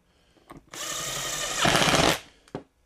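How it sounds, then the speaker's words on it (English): A power drill drives a screw tight into a homemade pocket hole machine part, one close whirring burst that rises in pitch and strain near the end, then stops, with brief clicks before and after. "there's 7 screws holding this together, and just make sure they go nice and tight"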